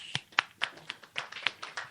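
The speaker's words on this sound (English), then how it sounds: "Why are you clapping for this motherfucker?" An audience at a roast claps in a thin, sparse rhythm of about nine distinct slaps, close and fairly faint, with no talk over it.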